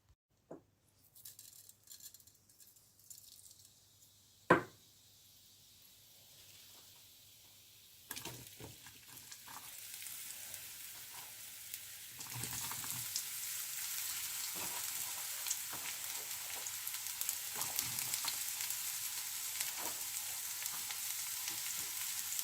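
Spinach vada ingredients sautéing in a pan, with a faint early sizzle and a few clanks, then a loud, steady frying hiss building from about eight seconds onward, no voices.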